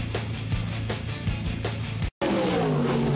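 Dirt modified race cars at Weed Sports Speedway, engines roaring loudly and continuously with pulsing passes, then after a brief cut, another engine whining up through its revs close by.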